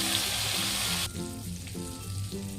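Prawns fry in hot oil in a kadai with a loud, dense sizzle for about a second. The sizzle then drops to a softer, steady hiss with faint tonal sounds underneath.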